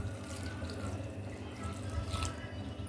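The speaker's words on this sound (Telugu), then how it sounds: "వాటర్ యాడ్ చేసుకుంటున్నాను" Water, about half a litre, pours steadily into a pot of tamarind leaves, toor dal, green chillies and tomato for dal, giving a continuous close splashing stream.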